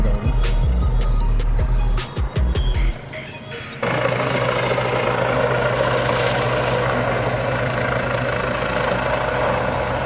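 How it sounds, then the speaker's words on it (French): A helicopter flies overhead above the southern districts of Toulouse during a night of unrest, its loud steady rotor roar taking over after a few seconds of closer thumps and clatter, continuing without pause. "Non, c'est un hélico là."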